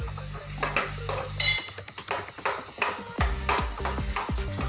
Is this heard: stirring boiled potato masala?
yes